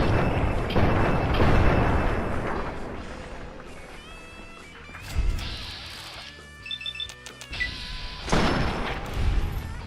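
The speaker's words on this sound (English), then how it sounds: "That explains why I'm hearing gunfire." Video game combat in Fallout 3, with bursts of gunfire, smashing impacts and thuds over an ambient game soundscape, the shots loud and irregular, several clustered toward the end.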